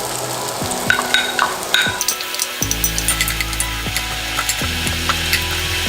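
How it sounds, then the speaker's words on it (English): Onion sautéing in bacon fat for a corn chowder sizzles steadily while a utensil scrapes and knocks against the pot in repeated strokes, close and fairly loud. "We're gonna saute our onion."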